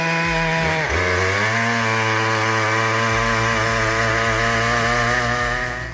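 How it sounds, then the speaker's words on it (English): Stihl MS-881 chainsaw with a 66-inch bar cutting a car-sized log, its engine dipping under load, then revving to a loud sustained high-pitched whine that holds steady to the end. "We've got a Steel MS-881 chainsaw going head-to-head with a log"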